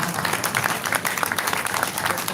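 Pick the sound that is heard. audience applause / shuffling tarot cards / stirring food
audience applause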